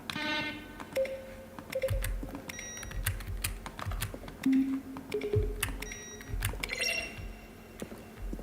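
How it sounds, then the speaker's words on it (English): Video game button presses mix a keyboard keystroke with a short synthesized tone, heard as a series of sharp taps and brief pitched beeps at irregular intervals. "A selection of the sounds used throughout the game when buttons are pressed."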